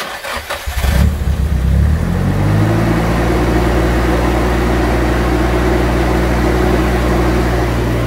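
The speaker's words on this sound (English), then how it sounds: "So now we'll go ahead and crank the car," A Nissan Silvia engine cranks and catches within the first second, flares briefly, then settles into a steady, loud idle that runs on alone to the end.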